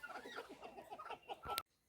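Roosters at a village fair in Maharashtra cluck and call faintly amid a busy background, then the sound cuts off abruptly.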